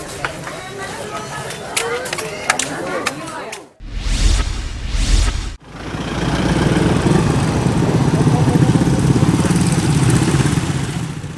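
A convoy of vehicles escorting ballot boxes to the election office in Tulang Bawang, Lampung rolls past with steady motorcycle-like engine drone and passing whooshes, loud and close, with crowd chatter and a narrator speaking over parts.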